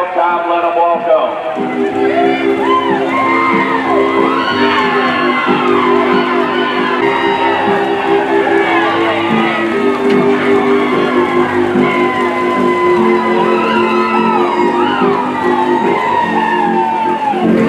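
Crowd at a Tennessee Walking Horse National Celebration show cheering, whooping and shouting continuously, loud and steady throughout, with announcer-like voices and music-like tones underneath.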